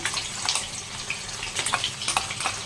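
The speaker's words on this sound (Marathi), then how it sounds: "बघा, जिरं कसं भाजलं जातंय ना, छानपैकी भाजू द्यायचं" Cumin seeds roast in a pan with a soft, continuous sizzle and crackle, brief pops and scraping stirs coming and going close by, with no talking.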